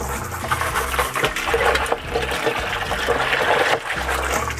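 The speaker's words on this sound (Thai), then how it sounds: "เราก็แปรงมาช่วยล้างนิดนึงครับให้มันสะอาดขึ้น" Water splashes and gushes while a fish pond filter tank is scrubbed clean with a brush, a loud close continuous wash of running water with rough scrubbing bursts, and no speech.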